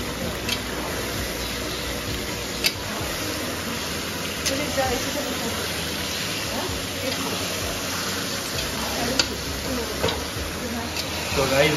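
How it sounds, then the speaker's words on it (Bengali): Chicken is sautéed in a large wok, giving a steady sizzling hiss with occasional stirring scrapes and clinks of a utensil on metal. "এখানে চিকেন কষানো হচ্ছে"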